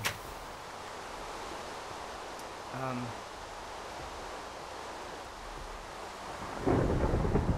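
Steady rain hiss in a Minecraft FTB modpack world, with a long thunder rumble near the end that swells loudly over the downpour.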